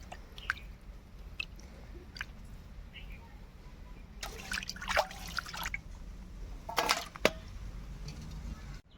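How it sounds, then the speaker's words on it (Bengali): Cut pabda fish being rinsed by hand in water in a kitchen: soft splashes, drips and squishy handling sounds, quiet and close, with louder bursts of sloshing midway and near the end. "আবার খুব সুন্দরভাবে ধুয়ে নেব মাছগুলোকে"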